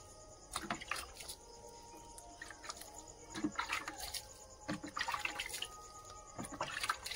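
Water poured by hand onto the soil of a plant pot where seeds were just sown, a faint uneven trickle and splashing in short bursts, quiet and close, no talking.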